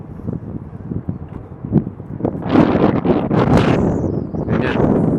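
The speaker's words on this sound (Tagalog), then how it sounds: "Mahangin ba? Rinig niyo yung hangin." Outdoor wind buffets the microphone at sunset in Digman, gusting in loud rumbling bursts that build and stay strong, with rustling underneath.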